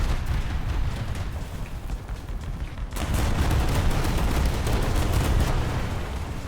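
Rumbling bursts of T-80 tank cannon fire in War Thunder with a sharp blast near the middle, followed by continuous booming battle noise, loud and close.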